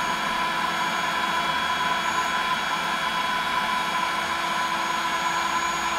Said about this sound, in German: So, und jetzt auf Vollgas.